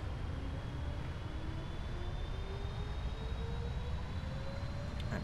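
Airliner engines in the Prepar3D flight simulator spooling up for takeoff on a Washington Dulles to San Francisco flight: a steady, loud broadband roar with a slowly rising whine building over several seconds, no talking.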